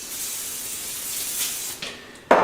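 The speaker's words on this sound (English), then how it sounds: "Spray down your sheet." Non-stick cooking spray hissing onto a cooking sheet in a kitchen, a soft continuous spray followed by a couple of short louder bursts at the end.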